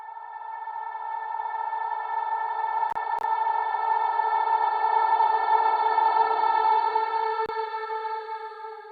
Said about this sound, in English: I put it through my trusty evolving drone reverb, and I made a copy. I reversed it